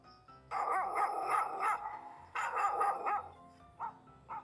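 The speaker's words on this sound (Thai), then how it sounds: "คราวนี้ทดสอบเสียงสุนัขเห่า" A dog barks repeatedly in quick bursts, several sharp yaps in two clusters, followed by a couple of softer single barks, played as a sound detection test for a TP-Link Tapo C246D security camera.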